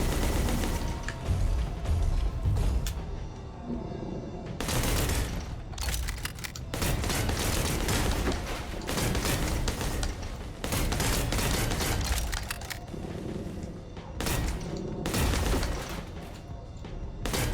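Sustained gunfire rattles through a shootout in the game Bounty Star, with loud bursts, booms and mechanical clatter coming in waves separated by brief lulls.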